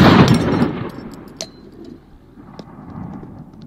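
A Thompson Center Encore rifle chambered in .300 PRC bursting after a squib load: a loud, sharp blast with a roaring, decaying rumble, then a faint metallic ping and lower debris clatter, with no talk.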